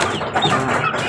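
Asil chickens cluck softly nearby with faint high peeping of Asil chicks mixed in, a short burst of close farmyard fowl sounds.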